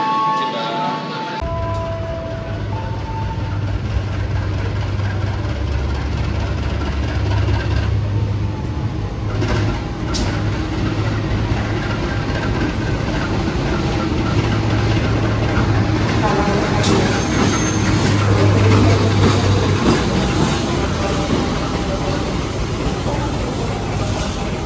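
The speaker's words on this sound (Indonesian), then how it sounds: "Kereta api komuter lain Penataran Doho tiba di stasiun Malang teman-teman" A Penataran Doho commuter train pulls into Malang station with a continuous loud rumble and low engine drone, steady throughout, while people talk nearby.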